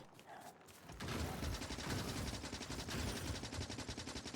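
Factorio turrets open fire in a sustained, loud, rapid mechanical rattle after a quiet start, steady and unbroken to the end.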